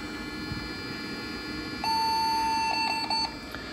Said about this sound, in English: you can hear it still makes the same series of post beeps